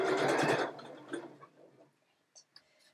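A sewing machine runs a quick burst of stitching along a seam for under a second, loud and close, then stops, leaving small clicks and handling sounds of fabric.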